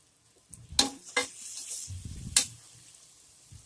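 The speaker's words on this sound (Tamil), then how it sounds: "இப்போ இந்த இஞ்சி பூண்டை நல்லா வதக்கி எடுத்துக்கோங்க." Ginger-garlic paste fries with browned onions in a pan, heard as a few short spatula scrapes and soft stirring clatters over a faint, quiet sizzle.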